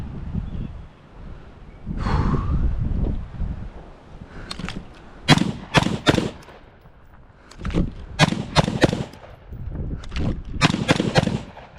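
Rapid strings of MK18 rifle shots during static drills at an outdoor range, fired in several tight clusters with short pauses between them, loud and close, with wind noise and a bit of speech early on.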